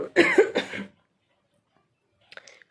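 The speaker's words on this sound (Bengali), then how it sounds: "ভিডিও করতে কথা বলতে গেলে কাশি হচ্ছে" Three quick, harsh coughs in a tight burst, then a pause before one softer follow-up cough, close to the listener, from a person coughing while trying to talk.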